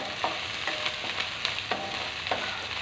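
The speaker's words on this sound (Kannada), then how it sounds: "ಶುಂಠಿ ಬೆಳ್ಳುಳ್ಳಿ ಪೇಸ್ಟ್ ಹಾಕಿ, ಸ್ವಲ್ಪ ಉಪ್ಪು ಹಾಕಿ, ಚೆನ್ನಾಗಿ ಬಾಡಿಸಿ." Ginger garlic paste and salt sauté in a hot pan while a spoon stirs them, giving a continuous close sizzle broken by several regular scraping strokes.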